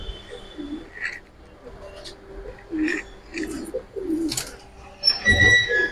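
Adult pigeons, including young khaki-coloured birds kept for breeding and flying, coo in low repeated phrases close by, with someone talking over them and a brief higher chirp near the end.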